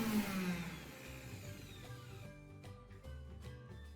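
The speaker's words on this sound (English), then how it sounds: "pause, let the powder settle, and gently shake the blender if needed" A blender whirs loudly as it grinds cinnamon into powder, its motor pitch shifting and settling into a steady hum with faint rattling.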